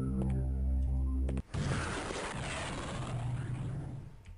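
An explosion in the video game Heretic 2: a tonal in-game sound cuts off and gives way to a broad, noisy blast that rumbles and slowly decays over several seconds.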